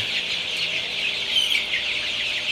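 Many 25-day-old Sonali super hybrid chickens cluck and chirp together in a continuous, crowded chatter, like a flock packed close in a shed.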